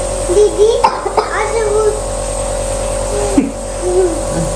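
A child with a cold coughs a few times amid soft, high child vocalizing, with a steady electrical hum in the background.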